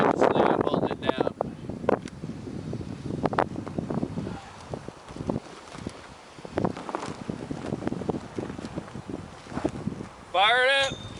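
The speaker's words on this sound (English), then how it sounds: "It's kind of windy out here" Gusty outdoor wind buffets the microphone while people talk intermittently, with rustling and a brief squeaky sound near the end.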